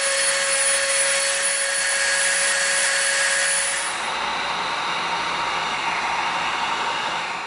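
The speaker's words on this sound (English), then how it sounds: "we're gonna Dremel the edges of both of these pieces" A Dremel rotary tool grinds the edges of EVA foam pieces, a loud, steady high-pitched whine that holds without pause, shifting slightly lower in tone partway through as the bit bears into the foam.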